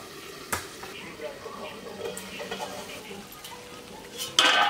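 Koi fish frying in oil in a pan, a soft steady sizzle with faint stirring and utensil clinks, ending in a sharper burst of hissing.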